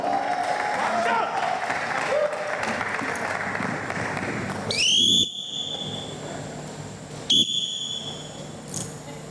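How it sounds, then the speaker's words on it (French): An audience at an improvised theatre evening breaks into applause, a dense patter of clapping joined by two sharp, piercing whistles of approval, with voices mixed into the crowd noise. "On acclame pour Malebo."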